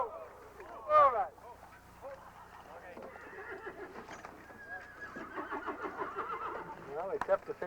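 A Clydesdale horse whinnies loudly, then hooves clip-clop on hard ground while a few people talk quietly nearby.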